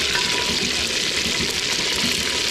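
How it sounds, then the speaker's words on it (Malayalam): Food frying in oil at an outdoor African cooking spot, a steady broadband sizzle with watery crackle running loud and unbroken throughout. "അപ്പോൾ അവരിത് വറുത്തുകൊണ്ടിരിക്കണു കേട്ടോ"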